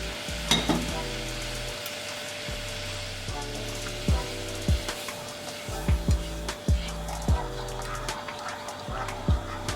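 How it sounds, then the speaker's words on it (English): Vinegar and sugar boiling in a pot, bubbling and sizzling on the heat, with a steady hum and a series of sharp knocks and scrapes, like a spoon stirring against the pot. "So it is now boiling, so I'm going to add the sugar to it."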